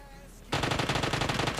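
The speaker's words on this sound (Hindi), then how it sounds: "यहाँ मैंने उन्हें फायर किया" Automatic gunfire from the mobile battle royale game PUBG Mobile bursts in after a quiet half second, a rapid, even string of loud shots that continues to the end.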